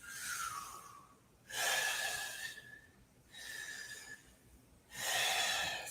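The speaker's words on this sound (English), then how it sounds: "5 more big deep breaths." Slow, deep breaths during a yoga breathing exercise for jiu jitsu recovery, heard close and alone: long airy inhales and exhales trade off in a steady rhythm, about four in all, with quiet gaps between them.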